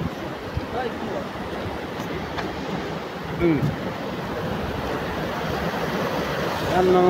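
The Rani Khola, a fast mountain river in Sikkim, rushes continuously in a broad, steady roar, with faint voices briefly rising over the water.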